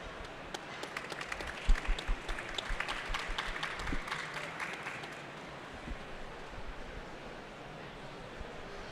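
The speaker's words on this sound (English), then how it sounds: "Another round of applause." Applause from a conference audience in London, a dense patter of clapping that swells early and then thins into a softer, steady rustle over the remaining seconds.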